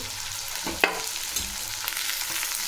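Runner beans, their seeds and mixed vegetables frying in oil for Bhogi bhaji: a soft, steady sizzle with a few sharp scrape-and-stir clatters from a spoon in the pan, close by with no voices.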